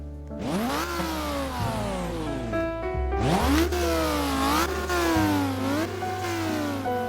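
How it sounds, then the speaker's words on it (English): Audi R8 engine in the racing game Midnight Chasers, idling then revving hard twice with rising and falling pitch sweeps, loud and close, settling back to a steady idle between revs. "So, here it is, the Audi R8. First up, let's get a sound check in."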